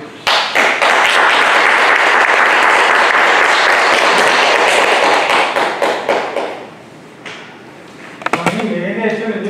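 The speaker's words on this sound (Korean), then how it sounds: "박수로 맞이해 주십시오" Audience applause welcoming a lecturer at a Won Buddhist meditation hall in Busan, loud and dense clapping for about six seconds, then thinning to a few scattered claps before near silence and a brief knock at the end.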